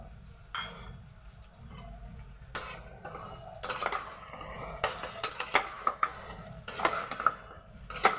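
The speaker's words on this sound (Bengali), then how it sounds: "এবার আমি টক দইয়ের সঙ্গে আবার ভালোভাবে কষিয়ে নেব" Mutton with beaten sour yogurt is stirred in a pot. A spoon scrapes and clinks against the metal in irregular bursts over a faint background sizzle.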